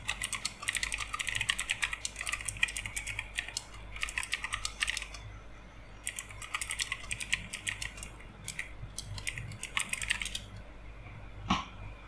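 Quiet bursts of rapid key clicks on a computer keyboard as a prompt is typed, short runs of tapping separated by brief pauses, close and fairly soft, with no voices.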